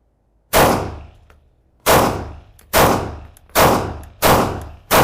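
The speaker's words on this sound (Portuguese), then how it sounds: "E aqui estamos finalmente para disparar alguns tiros com esta Canik TTI Combat." Five loud, sharp gunshots from a Canik TTI Combat pistol, each a sudden crack with a short decaying tail, fired at irregular intervals of roughly half a second to a second, close and with no talk.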